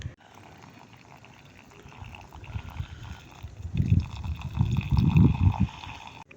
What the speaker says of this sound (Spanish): Como podemos ver, el agua se escurre hasta llegar hasta abajo.